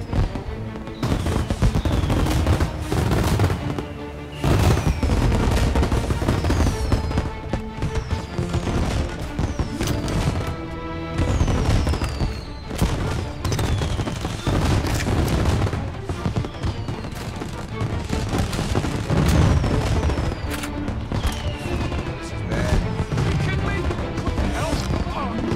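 Video game gunfire crackles in dense, continuous bursts of rapid automatic shots and single cracks, loud and close, with a voice talking over parts of it.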